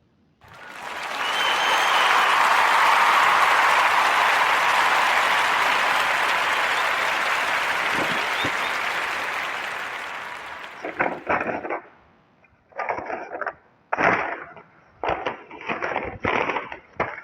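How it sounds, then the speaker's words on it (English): Audience applause in a podcast segment, a broad roar of many hands clapping that swells, holds for several seconds and fades, followed by scattered, bursty sharp cracks and knocks. "give a warm narrative podcast round of applause for Lewis"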